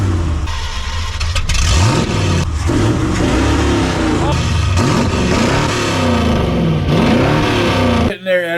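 A 1978 Ford F-350 truck with a loud aftermarket exhaust revs hard and close up, its deep rumble swelling in several rising, falling sweeps over a steady heavy idle before cutting off abruptly near the end.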